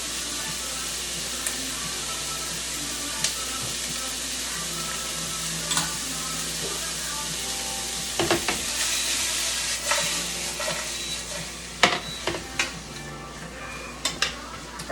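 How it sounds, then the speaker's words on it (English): Vegetables stir-fry in a pan with peanut butter and teriyaki sauce, giving a loud, continuous sizzle broken by scraping stirs and occasional clinks of a utensil against the pan, with no voice over it. "So just make sure you keep stirring them."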